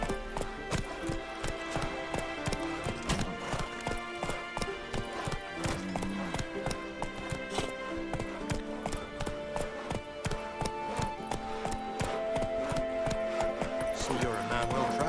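Rhythmic hoofbeats of a galloping horse in The Witcher 3, a steady clip-clop running through the whole stretch alongside game music, with a voice speaking and a whinny-like cry near the end.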